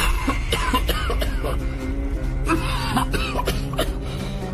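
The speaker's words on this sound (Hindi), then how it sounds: "तभी उसका दम घुटने लगता है और वो जोर जोर से खांसने लगता है।" A man coughs loudly and repeatedly in rough, choking bursts, as if suffocating, a close series of harsh hacks with gasping breaths between them.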